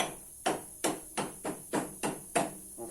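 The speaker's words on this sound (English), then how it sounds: "all we've got to do now is just tap this, this bolt through" Hammer striking a bolt to drive it through on a Peugeot Speedfight 100 scooter engine, seven sharp metallic blows at a steady, roughly even pace, close and clear with no talking.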